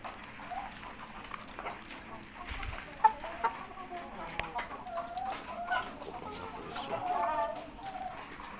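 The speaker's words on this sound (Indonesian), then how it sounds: "Senang ya lihat ayam makannya lahap." Hens cluck softly and intermittently while pecking at simple homemade feed, moderately close, with small scattered pecking taps and brief louder clucks over a quiet background.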